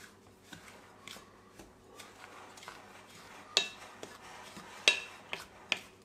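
Jamaican cornmeal pudding batter being mixed in a bowl for the holidays, with soft scraping and irregular clinks from the utensil against the dish, a few sharper knocks standing out near the end, no talk.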